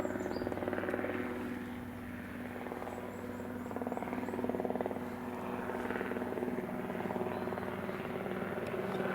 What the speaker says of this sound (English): noisy chopper in the background.